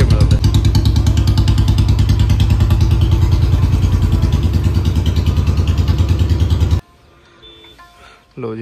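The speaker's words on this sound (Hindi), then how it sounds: "क्योंकि साउंड आ रही सी बुलट की" A Royal Enfield Bullet motorcycle engine thumps loud and close in a steady rapid beat, then cuts off abruptly, leaving faint background sounds.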